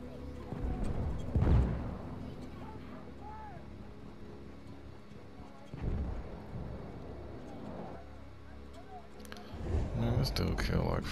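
A tank cannon booms in a Battlefield 1 match, with heavy low blasts recurring at intervals amid the rumble of battle while a player talks over the game sound.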